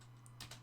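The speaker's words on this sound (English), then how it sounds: "I'm just typing Keith's scoring." Quick typing on a computer keyboard while entering quiz scores: a couple of soft, close key clicks followed by two sharper taps over a steady low electrical hum.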